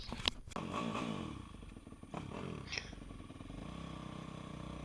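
A four-stroke dirt bike and quads ride over rough ground with studded tires, the engines puttering and revving faintly amid clattering knocks and scrapes.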